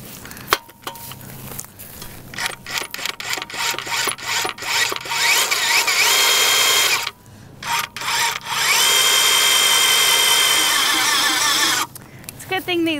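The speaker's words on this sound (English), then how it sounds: "I brought out the auger and some starter fertilizer." A powered auger bores holes into poor garden soil for planting grasses, loud and close, whining and grinding in long bursts with brief pauses between holes, while a voice speaks at times.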